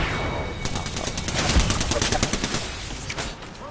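Gunfire in the video game Apex Legends, with dense rapid bursts of automatic shots and overlapping fire, loud and continuous, mixed with game voice chatter.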